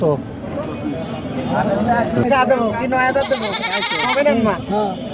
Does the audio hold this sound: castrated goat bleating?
yes